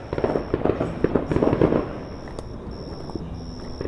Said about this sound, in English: Fireworks behind me